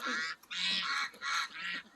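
Loud, close squawking calls in four bursts, harsh honking cries of agitated poultry, with no talking.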